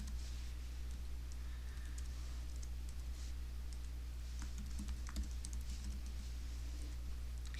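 Typing on a computer keyboard while entering account details during a trading platform setup: steady, quick key clicks at close range with no talking, over a faint constant hum.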